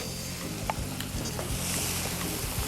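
Butter and capers foaming and sizzling in a hot pan, a steady crackling fry throughout with occasional soft stirring knocks, close and fairly loud.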